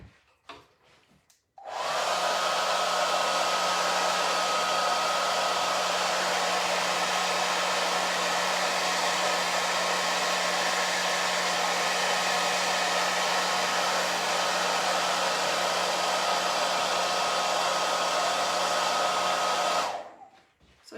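A hair dryer heating a paper poster print for decoupage, switching on abruptly and blowing with a loud, steady whooshing roar and a faint whine for about eighteen seconds before cutting off, with no talking.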